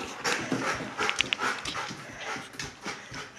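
An excited dog pants rapidly and lets out a few high, thin whimpers close by, with scuffling and shuffling movement around it and no clear talking.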